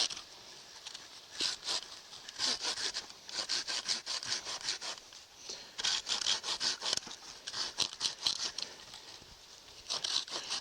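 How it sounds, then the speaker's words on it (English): Light-duty folding saw cutting through wood outdoors, rapid rasping strokes in uneven bursts with brief pauses, close and fairly quiet. "When you're sawing, especially with a light-duty folding saw like this, don't put any downward pressure on it."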